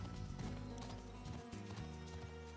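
Heavy hooves of a huge Behemoth mount in a video game clop along steadily under a loud, dense background of game music and noise.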